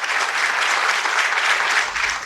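Sustained audience applause for Governor McGreevy after his six-minute speech: a dense, even wash of clapping from many hands that holds steady throughout.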